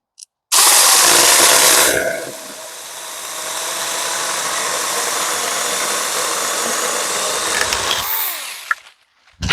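A battery chainsaw with a 6-inch bar bites into a tree branch, rising to a loud, steady whine with a heavier bogging roar as it cuts through, then drops away as the bar exits the wood near the end.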